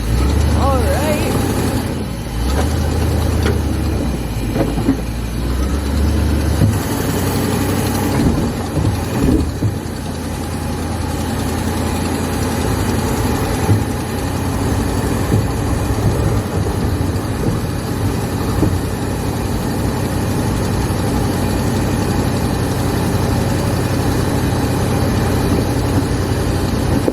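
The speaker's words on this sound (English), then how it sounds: "let me move my truck out of the way and then we'll take it up" A pickup truck's engine idles and rumbles steadily at close range, next to a vintage RV parked in a driveway, holding a continuous low drone with occasional shifts under light background noise.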